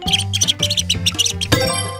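A quick run of high, bright squeaks in rapid bursts, close and fairly loud, over a steady low tone; sounds like a mouse squeaking.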